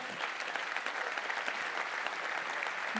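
A crowd applauds steadily for a few seconds, a dense even patter of clapping without pauses.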